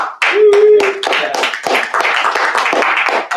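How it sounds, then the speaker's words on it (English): Applause from a small meeting group for a speaker, a dense run of close hand claps that starts abruptly and continues steadily, with a brief tonal sound early on. "let's give Steve another big round of applause"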